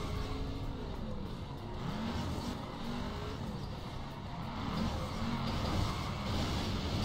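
Cars racing and crashing in the video game Flatout 3: a continuous engine roar with rising and falling revving tones, dense and steady throughout with slight swells, no voices.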